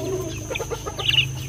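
Chicken clucking nearby, a short run of soft, choppy clucks ending in a brighter, higher cluck, over a low steady background hum.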